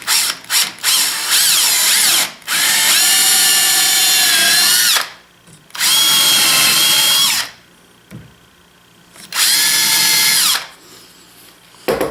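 A power drill bores through a wooden handle for a Number 7 hand plane. It runs in three long, loud whirring bursts with short pauses between them and a few quick blips at the start.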